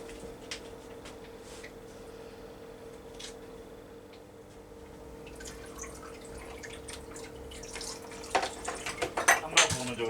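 Kieselguhr sol liquid is poured into a container, faint dripping at first building into louder splashing and clinking near the end over a steady background hum.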